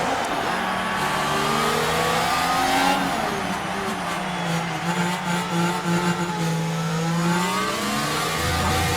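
A pack of Formula 1 cars in F1 Manager 2024 roar away from the start at the Monaco Grand Prix, engines rising and shifting in overlapping high-pitched whines, loud and continuous.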